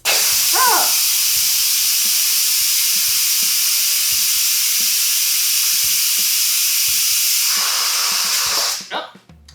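Steam hisses loudly and continuously from the pressure release vent of an Instant Pot after cooking mac and cheese, a close, sustained spray that cuts off abruptly near the end, with faint clicks underneath.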